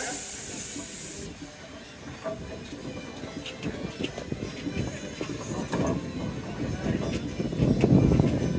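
A 1923 Marshall steam traction engine named Frida runs at the Lincoln steam rally, giving off a continuous hiss and a rumbling, uneven chuff that swells louder near the end.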